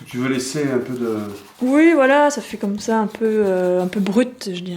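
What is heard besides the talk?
No everyday noise stands out behind the speech.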